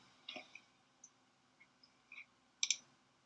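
Mouse clicks on a login button while signing into a university Blackboard page: a few faint, sparse clicks spread over a few seconds, ending with a sharper, louder double click.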